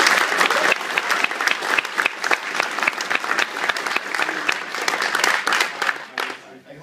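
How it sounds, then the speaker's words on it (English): Sustained audience applause at a Hasbro Transformers panel at New York Comic Con 2012, dense and steady, a crowd clapping loudly for several seconds before tapering off at the end. "how about a big round of applause for our cast?"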